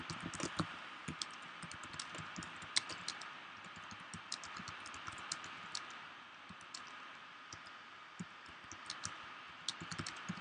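Steady typing on a computer keyboard, rapid irregular clicks of keys at close range, quiet and continuous with no voices.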